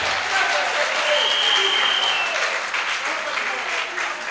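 Congregation clapping during a church service: sustained dense applause filling the room, fairly loud and even, mixed with voices and cheering.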